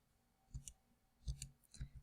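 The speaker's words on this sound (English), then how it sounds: "I'm going to right arrow out of it and type -3" Keys pressed on a TI-84 Plus graphing calculator, a few faint plastic clicks in small clusters, close and quiet against near silence.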